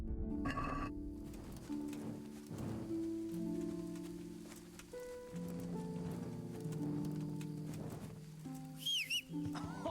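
Horse hooves clopping in the medieval game Kingdom Come: Deliverance, a steady run of soft thuds under a busy bed of music and ambient game sound, with no voices.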